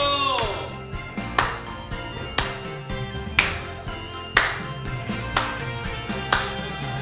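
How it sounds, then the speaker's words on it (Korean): A church congregation claps along in a steady rhythm, roughly one sharp clap per second, ringing over a sustained musical background during a Sunday worship service. "박수!"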